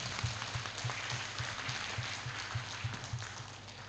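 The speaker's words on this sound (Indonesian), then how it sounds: "Tepuk tangan untuk beliau." Audience applause at a Nahdlatul Ulama (PCNU Lumajang) gathering in Indonesia, a moderate, steady wash of clapping lasting throughout, with a regular low thumping beat running underneath.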